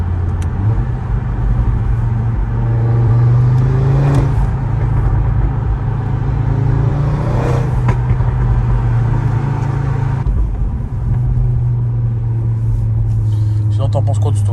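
A tuned, decatted and remapped Audi RS3 8V2 accelerating hard, its five-cylinder drone loud and steady throughout with rising engine pulls, heard from inside the car.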